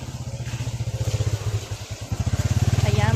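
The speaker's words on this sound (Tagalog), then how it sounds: "may dadaan na motor" A motorcycle rides past close by, its engine building from a low rumble to a louder, steady pulsing drone over a few seconds, with no talk.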